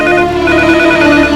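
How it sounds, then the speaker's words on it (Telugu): A telephone rings loudly and close, a sustained electronic trill with no talk over it. "రింగ్ అవుతుంది కానీ ఎవరు లిఫ్ట్ చేయడం లేదు"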